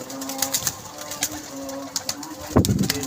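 A caught pigeon gives soft, low cooing close by, short repeated coos over background room noise, with a brief louder rustle near the end and a voice nearby.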